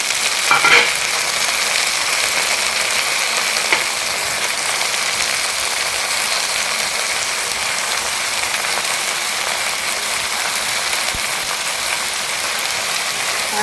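Chopped tender bottle gourd goes into a pan with prawns and fries, giving a steady, fairly loud sizzle. The crackle runs on alone without a break, with a brief clatter near the start.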